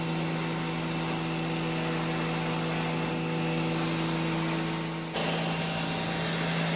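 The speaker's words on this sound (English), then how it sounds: "We'll just definitely comes off better with the pressure washer." A pressure washer blasts a patio surface with a loud, continuous droning hiss and a steady motor hum, unbroken apart from a brief shift in tone near the end.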